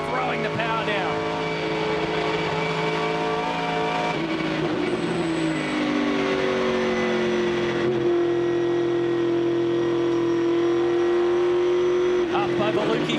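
A 2002 V8 Supercar race car engine accelerates hard up the incline at Phillip Island, a loud sustained roar with rising tonal harmonics, heard under continuous race commentary.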